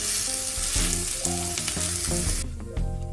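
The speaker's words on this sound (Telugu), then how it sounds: "ఆయిల్ వేసుకున్న తర్వాత ఊతప్పాన్ని ఒక 3 నిమిషాలు వెనక భాగాన్ని ఉడకనిద్దాము." Ravva uttapam with oil sizzling and frying steadily on a hot pan, a continuous close crackle with a few clinks of a utensil, with no talking.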